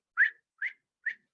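A human voice imitates the groundhog's mating call: three short, high-pitched, slightly rising whistles, evenly spaced and clear against silence.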